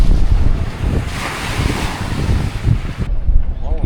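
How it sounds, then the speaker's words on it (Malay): Waves lapping on Lake Wakatipu in New Zealand, a rushing wash of water mixed with gusty wind buffeting the microphone, close and fairly loud. "This is Lake Wakatipu."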